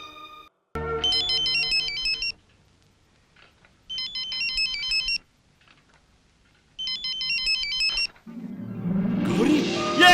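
A mobile phone ringtone rings loud and close in three repeated bursts of melodic tones with short silent gaps between them, followed by a rising noisy rumble at the end.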